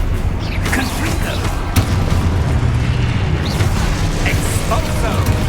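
Spell blasts and booming explosions in Hogwarts Legacy combat, dense rumbling impacts and bursts over constant game noise, loud and continuous with a voice calling out over them.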